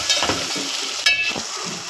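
Frying onions mixed with garlic-ginger paste sizzle in a pan while a spatula stirs, with a couple of sharp metallic scrapes over a constant hiss.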